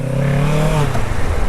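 A Kawasaki Ninja 650 parallel twin motorcycle engine revs briefly and loudly nearby, its tone sliding downward as the revs fall off.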